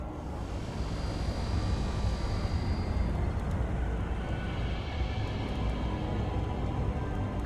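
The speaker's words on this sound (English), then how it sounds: "Sound of the engine pierced the air." Engines of armoured flying drones approaching in the detective video game GameDEC, a steady deep roaring drone with a high whine on top, constant and loud throughout with no pauses.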